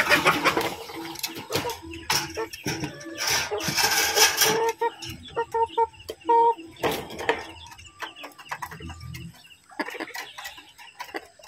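Domestic roosters and hens on a small farm making clucks and short calls, close and irregular, mixed with rustling, handling noises and a person talking.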